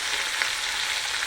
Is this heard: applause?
no